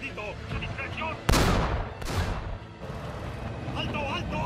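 A war film battle between Sherman tanks and a Tiger I, with a huge cannon blast and a second booming shot tearing through steady gunfire, while soldiers shout in Spanish around them.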